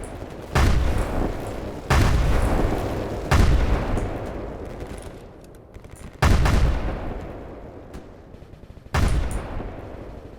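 Grenade blasts in the game Escape From Pripyat, five heavy booming detonations spaced a second or two apart, each a sharp loud crack with a rumbling tail, no voices over them.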